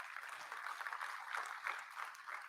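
Faint, distant applause from a convocation audience, a dense even patter of many hands that carries on steadily for a couple of seconds with no voices on top.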